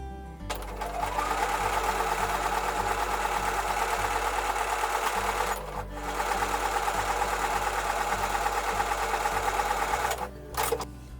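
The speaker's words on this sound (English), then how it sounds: "So that is now ready to be taken to the sewing machine, and when I do, I'm going to flip it over and sew from this side" A sewing machine stitches quilt block seams in loud, rapid whirring runs, pausing briefly twice before resuming, with a steady motor hum underneath and no talking.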